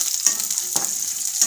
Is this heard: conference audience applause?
no